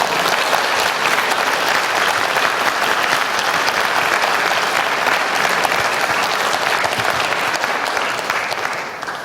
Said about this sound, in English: do it now with a big round of applause